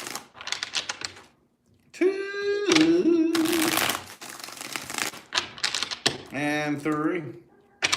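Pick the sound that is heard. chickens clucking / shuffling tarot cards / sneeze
shuffling tarot cards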